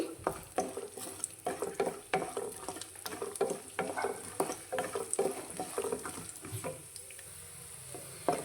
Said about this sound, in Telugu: సో మీడియం ఫ్లేమ్లో పెట్టుకుని బాగా ఫ్రై చేసుకోండి